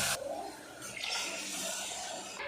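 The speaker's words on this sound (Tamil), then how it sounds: "நான் ரெண்டு கப் அளவுக்கு தண்ணி சேர்த்துக்கிறேன்" Water being poured into ghee-roasted wheat rava in a cooking pot, a soft continuous splashing pour lasting a couple of seconds, fairly quiet and close, with no talking.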